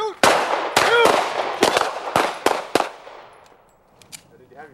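Pistol gunfire on a shooting range: about six sharp, loud shots in quick succession, then the reports fade into a quiet tail with faint sounds from the range.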